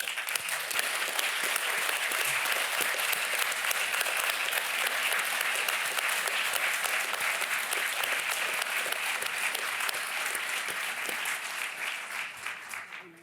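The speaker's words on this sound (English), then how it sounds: "join me in clapping and thanking them for their support of you in this great endeavour" A large audience at a postgraduate academic awards conferring ceremony applauds steadily and loudly for about thirteen seconds, a dense sustained wash of hand claps that tapers slightly at the end.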